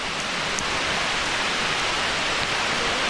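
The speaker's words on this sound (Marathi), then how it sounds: "काय खतरनाक पाऊस आहे लय बेकार पाऊस आला" Heavy rain pours down in a dense forest on the Dudhsagar trek, a steady, loud, unbroken hiss of water with no voices.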